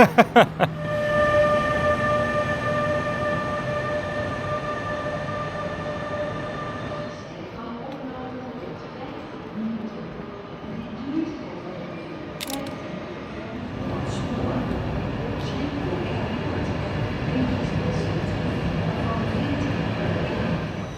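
A train rumbles steadily along the tracks nearby, a horn sounding briefly at the start, with faint voices in the background throughout.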